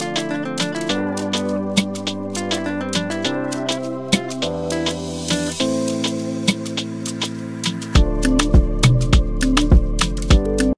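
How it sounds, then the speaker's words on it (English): A simple rising sweep effect builds into a crash cymbal within an Afrobeat made in Ableton Live with stock sounds, layered over steady kick, bass and percussion loops that grow louder and fuller near the end. "Very simple rise. Then I added this crash again."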